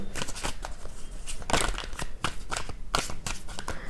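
Tarot cards drawn and shuffled from a deck give quick, crisp papery slaps and flicks in an irregular rapid run, close up with no talking.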